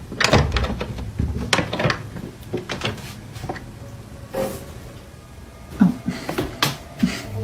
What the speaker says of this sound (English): films the frightening moment she opens the door